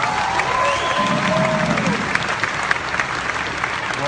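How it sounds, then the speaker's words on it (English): A crowd at a cryptocurrency event in London gives a round of applause, steady dense clapping across the room with a few scattered sharper claps near the end. "Can you give all of yourselves one big applause?"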